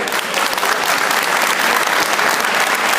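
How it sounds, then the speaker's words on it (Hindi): Loud, dense audience clapping at a public event in Janakpuri, Delhi, with the Foreign Minister attending, a continuous wash of hands filling the space at close range, no voices over it. "अगर आपको ताली बजानी है तो जोर से बजाइए,"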